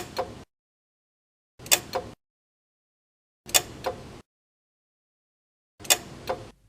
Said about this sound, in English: check that a clicking sound is heard from the air conditioner compressor clutch at each moment the terminals are jumped